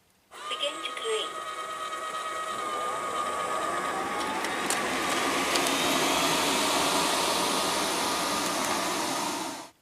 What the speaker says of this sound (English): so let's see how well it vacuums them up